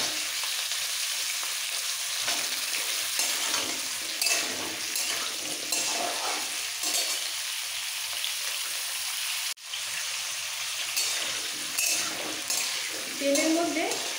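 Potatoes and cauliflower frying in hot oil for Durga Puja bhog khichuri: a steady hiss and sizzle with stirring scrapes, close and continuous, a brief dropout midway, no speech.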